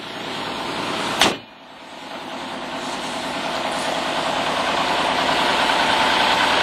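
A cold 2.5-liter V6 in a permanent four-wheel-drive family vehicle catches with a sharp crank and settles into a steady, slightly rough idle that grows a little louder as it runs.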